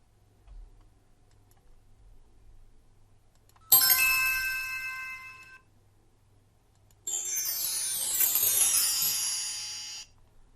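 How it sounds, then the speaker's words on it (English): Two separate bursts of bright metallic ringing, the second denser with clanging, overlapping tones, each lasting a few seconds against near silence. "church bells"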